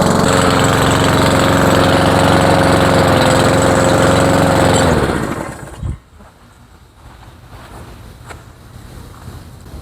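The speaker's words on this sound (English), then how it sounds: "it's running pretty good out overall, other than it sounding like an old motorcycle" A Cub Cadet lawn mower engine runs loud and steady at idle with a rough, motorcycle-like note for about five seconds, then cuts off, leaving quiet background.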